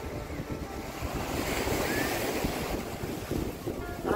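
Surf washing steadily onto the broad Lara beach on a windy day, a continuous rushing roar mixed with wind buffeting the microphone, with sailboats and surfers out on the water.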